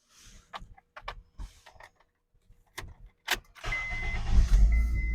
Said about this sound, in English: start the car again.